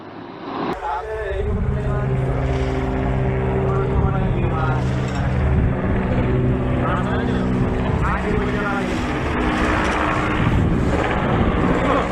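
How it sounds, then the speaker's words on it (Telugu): An Indian Air Force helicopter at Kedarnath, by the Mandakini river after a landing problem, gives off a steady, droning engine and rotor hum throughout, with a person talking over it. "ఈ ఘటన కేదార్నాథ్లో వైమానిక దళాలకు సంబంధించిన హెలికాప్టర్కి సంబంధించినటువంటి విజువల్స్ చూస్తున్నాం"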